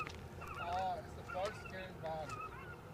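Bird-scaring device at Edinburgh airport emitting distorted goose-like honking calls in repeated bursts, with a continuous background rumble from the airfield.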